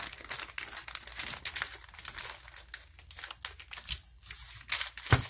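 Wrapping paper crinkles and crumples up close as bear meat is folded for the freezer with the corners tucked in, a quiet run of irregular rustles and sharper crackles with no talk.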